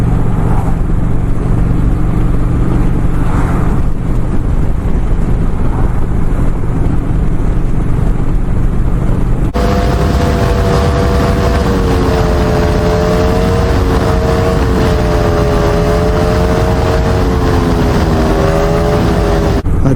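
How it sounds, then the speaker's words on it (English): A coal truck rumbles past a motorcycle on a wide stretch of mountain road. The engine drones steadily and loudly throughout, and the pitch shifts partway through as the heavy vehicle goes by. "Here comes another coal truck, but this is wide here, so we're all right."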